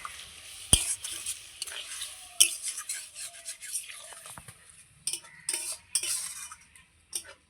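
Banana flower and Gobindobhog rice cooking in a pan as a little water is added and stirred, with a quiet bubbling sizzle broken by sharp metal clinks and scraping spoon strokes.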